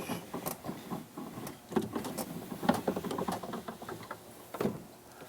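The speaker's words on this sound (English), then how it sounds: "Now, this all works good. The window holds up and down good." The power window of a 1965 Ford Mustang fastback is cycled up and down, giving a faint, close mechanical whir with small rattles and clicks over about five seconds, with no talking.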